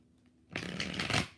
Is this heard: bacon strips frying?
no